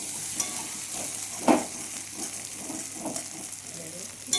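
Potatoes fry in hot oil with a steady, fairly quiet sizzle, broken by a few scraping stirs and a louder clatter near the middle.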